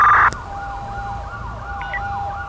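An ambulance siren in the video game GTA V wails in a repeating rising and falling sweep at moderate distance, opening with a brief loud burst of another tone, steady under no talk.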